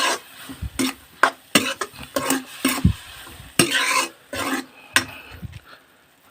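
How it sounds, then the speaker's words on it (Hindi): Homemade chutney with salt being mixed by hand, a series of close, distinct scraping and clinking stirs against the vessel, irregularly spaced with short gaps between strokes. "अब सबको मिक्स करेंगे।"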